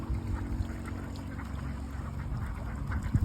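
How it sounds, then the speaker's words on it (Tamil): A duck quacks while bathing in water. The faint, low quacks sit in steady outdoor background noise. "அங்கே இருக்கு பாரு இந்த வாத்து குளிக்குது பார்த்தியா?"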